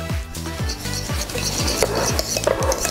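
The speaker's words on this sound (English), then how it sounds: "Pretty good scoop of nice spicy Dijon. Mix that together first." Spicy Dijon mustard and lemon are stirred together in a bowl for a potato salad dressing: quick, rhythmic scraping and clinking strokes, close and fairly loud, with no talking.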